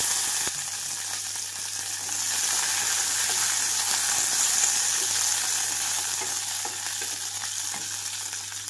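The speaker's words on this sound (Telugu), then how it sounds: "ముందుగా ఇక్కడైతే పచ్చిమిరపకాయలు వేసి వేయించుకుంటున్నాను." Green chillies frying in about a spoon of oil in a pan for a Karnataka-style chutney, giving a loud, constant close sizzle with faint crackles and an occasional utensil tap, no one speaking.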